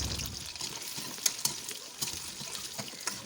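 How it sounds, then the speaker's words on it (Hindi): Chopped arbi (taro) frying in hot cooking oil gives a soft continuous sizzle with scattered crackles and pops, close up and moderately quiet, with no talking. "कुकिंग ऑयल गरम हो जाएगा तो इसलिए हम ये सारी अरवी कटी हुई डाल देंगे और इसको फ्राई कर लेंगे।"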